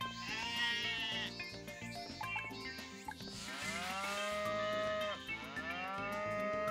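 Cows in the farming video game Harvest Moon Light of Hope let out long, loud moos, mixed with bleating livestock calls over soft background game music.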